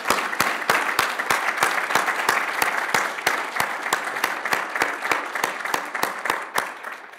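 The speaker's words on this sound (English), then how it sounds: "a round of applause for Catherine" Audience applause at a mentoring network luncheon congratulating Catherine, steady and moderately loud clapping from a crowd over about seven seconds, with a few sharp individual claps standing out and fading slightly at the end.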